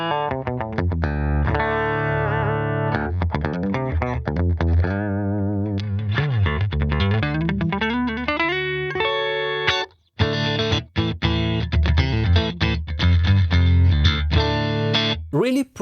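An electric guitar plays clean chords and single notes through a Fender amp model on the Tone Master Pro with reverb and tremolo bypassed, ringing close and bright, with a short pause midway.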